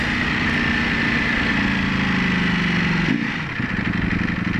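A Ducati Panigale V4 motorcycle engine runs with a steady, close, loud drone. It then drops sharply in pitch as it downshifts about three seconds in, settling into a lower, throbbing idle.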